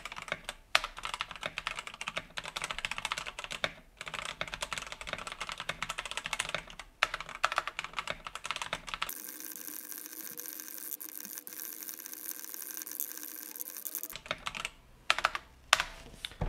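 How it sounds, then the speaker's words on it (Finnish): Fast typing test on a budget Blackstorm MEC 2020 mechanical keyboard, dense rapid key clacks in a steady stream, with a pause of quieter steady hum before typing resumes; no talking. "Blackstorm MEC 2020 kirjoitustesti."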